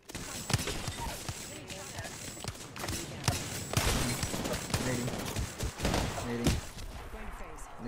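Rapid bursts of gunfire in the Apex Legends video game ring out in quick, dense volleys, loud and close, with a player's voice talking over the shooting.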